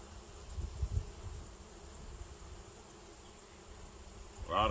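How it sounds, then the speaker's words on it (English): Honey bees buzz around an open hive, a soft steady droning hum close by, with a few low handling bumps and a brief rustle at the end. "So I certainly don't want to mash a bunch of bees."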